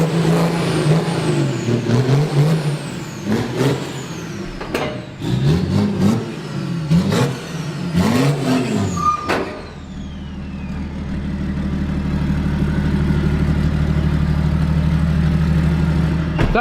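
A 3-litre diesel car engine is revved hard in a string of rising and falling bursts, then settles into a steady, loud, rumbling idle that continues to the end.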